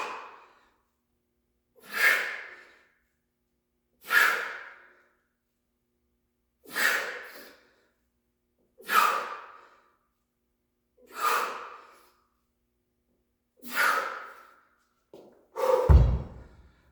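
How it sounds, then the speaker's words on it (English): Heavy, forceful breaths during a kettlebell and bodyweight leg workout come in eight sharp exhales spaced about two seconds apart, close and loud, ending in a rougher gasp with a thud, and no talk. "I was trying to breathe in during the top portion of the exercise"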